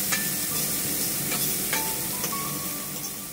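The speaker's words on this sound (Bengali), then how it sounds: "আমি এখানে সবজিতে বিটরুট, গাজর আর কাঁচা লঙ্কা নিয়েছি, আর সবটা এবার ভালো করে ভেজে নিচ্ছি" Chopped beetroot, carrot and green chilli fry in hot oil for Kolkata-style vegetable chops, a continuous bright sizzle broken by the soft scrapes of stirring, with no talk.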